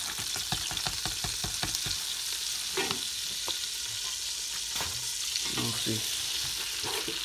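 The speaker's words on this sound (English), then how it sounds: "stir that, because you're making a paste. Basically all that flour is getting soaked in by the butter." Flour being stirred into melted butter to make a paste for a pasta bake, a steady close sizzle and frying hiss with repeated soft scraping strokes of the spoon against the pan.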